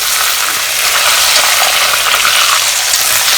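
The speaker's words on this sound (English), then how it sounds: "The important thing when double frying is not to turn down the heat, otherwise the oil will be trapped inside the pork" Pork pieces double fried in hot oil over high heat crackle and sizzle loudly and continuously, a dense, bright hiss with no talking over it.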